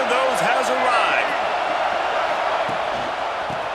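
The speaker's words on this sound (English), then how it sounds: "This crowd knows they have to bring it in big moments" A stadium crowd roaring in EA Sports College Football 26 during a Penn State versus Florida game, a sustained loud cheer that fades slightly, with a commentator talking over it.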